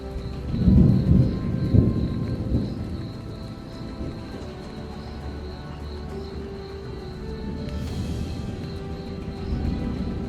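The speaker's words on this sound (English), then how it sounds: "So a big lightning storm at the moment." Thunder rumbles during a lightning storm in Kruger National Park: deep rolling booms early on fade into steady rain patter and insect chirping in the background.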